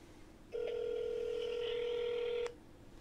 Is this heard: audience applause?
no